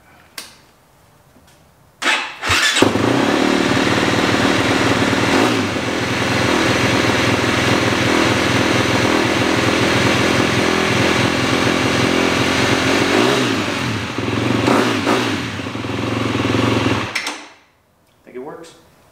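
A KTM 250 dirt bike, left sitting for weeks, fires up after a brief crank and runs loud and steady with revs rising and falling, then shuts off; a few knocks come before and after.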